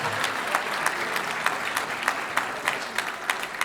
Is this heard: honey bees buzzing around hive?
no